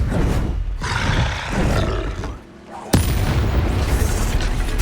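A Bombarda spell explodes in the video game Hogwarts Legacy, a loud booming roar that swells and fades, then a sharp blast near three seconds followed by sustained rumbling, dense and close.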